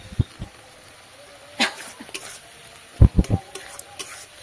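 Spices with turmeric sautéed in a pan, heard as a faint sizzle broken by several sharp scraping and tapping stirs in short bursts.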